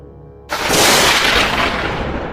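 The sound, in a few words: thunder rumbling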